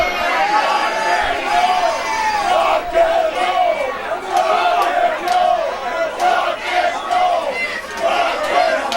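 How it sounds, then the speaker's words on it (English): A wrestling crowd in a bar jeers and chants throughout, a loud rhythmic rising-and-falling roar of many voices with shouts standing out at close range. "the crowd has been saying not too nice things throughout the evening"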